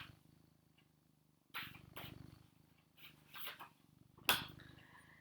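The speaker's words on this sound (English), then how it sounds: "Can you hear him purring? Because I think he's right by the microphone." A cat purring right beside the microphone, a close, low rumbling that runs steadily under brief rustles and a sharp handling click, quiet and intimate throughout.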